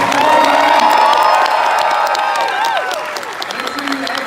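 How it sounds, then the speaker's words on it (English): A convention crowd at MegaCon applauds and cheers loudly, with whoops and high shouted voices over steady clapping that gradually fades. "Let's give them a warm round of applause."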